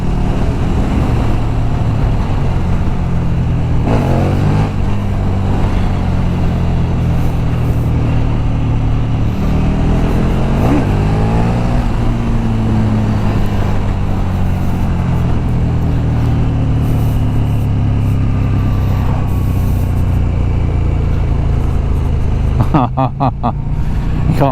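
A 2021 KTM 1290 GT motorcycle engine pulls hard under acceleration while riding, a steady loud rumble with rising revs and gear-change sweeps over constant wind roar, some talk mixed in.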